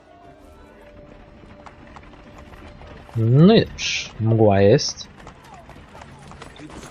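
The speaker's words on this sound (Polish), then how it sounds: "Zasiadamy konia i lecimy." A horse gallops in the video game Assassin's Creed 3 with a soft, steady rhythm of hoofbeats under ambient game sound, while someone talks over it in two short bursts.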